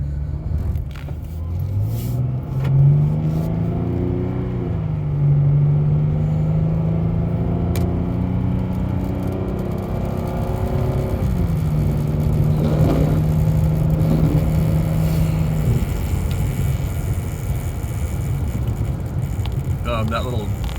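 A 2008 Dodge Charger's engine runs smoothly and strongly, heard from nearby as a steady low hum with a few gentle rises and falls in pitch, like light revving, continuing alone for about twenty seconds.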